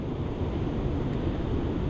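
Ocean surf washing onto a sandy beach at high tide, a continuous broadband rush of breaking water with wind buffeting the microphone, steady and fairly close.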